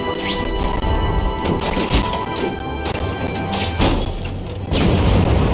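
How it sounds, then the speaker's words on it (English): Fireworks exploding in The Amazing Spider-Man 2 video game: loud, dense cracks and booming bursts that keep repeating over a constant roar of background noise. "friendly neighborhood fireworks."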